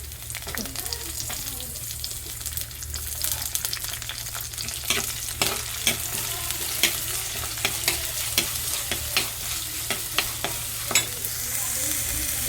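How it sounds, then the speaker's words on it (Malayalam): Tomato stirred into sautéed ginger, garlic and onion in a hot pan, a steady oily sizzle with repeated scraping stir strokes throughout. "നമുക്ക് അതിൻ്റെ കൂടെ തക്കാളി ഇട്ട് കൊടുക്കാം"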